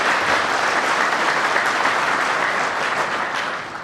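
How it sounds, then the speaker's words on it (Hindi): Loud, sustained applause fills the hall at a health mission gathering, a thick and even wash of clapping from the audience. It stays steady and then fades slightly near the end, with no talk over it. "आप तो जोरदार तालियां बजाकर कमल जी का धन्यवाद कीजिए"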